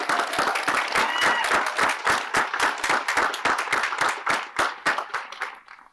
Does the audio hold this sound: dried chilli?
no